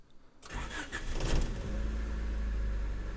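A car engine with freshly repaired exhaust starts up and revs, a low rumbling roar building after a short quiet moment, then holding a steady, strong drone up close.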